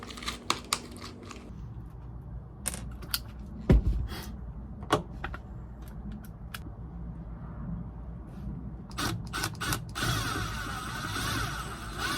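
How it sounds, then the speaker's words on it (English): Screws being driven in a van build, heard as scattered clicks, rattles and crinkly handling noise with short bursts of a driver, close by and steady with no talk. "let's grab a handful of screws and start screwing."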